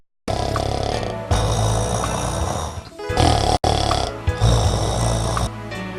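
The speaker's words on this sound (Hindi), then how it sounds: "कुछ ही देर में सभी पड़ोसी गहरी नींद में सो गए और खर्राटे भरने लगे।" Several neighbours snoring in deep sleep in an animated story, loud rasping snores in steady waves with brief pauses between breaths, filling the scene without any talk.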